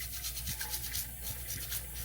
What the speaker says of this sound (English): use this scrubber with some soap to clean up any excess or debris